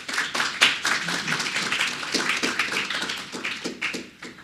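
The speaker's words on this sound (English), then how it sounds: "Let's give her a round of applause." An audience claps to welcome someone speaker at a PyOhio tech conference talk, a brisk, fairly dense round of hand claps with no voices, fading toward the end.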